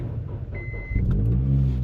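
A Honda Civic with about 107,000 miles, headed for the scrapyard, cranks briefly and then catches, its engine settling into a steady, loud close idle rumble.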